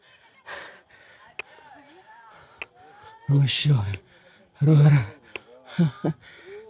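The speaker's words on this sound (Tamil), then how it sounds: "எனக்கு மூச்சு வாங்குறது பயங்கர நோய்ஸ் அடிக்கும்னு நினைக்கிறேன்." A tired hiker climbing the hills of the Tirumala pilgrimage path breathes heavily, with close, loud panting gasps and a few softer breaths between quiet spoken words.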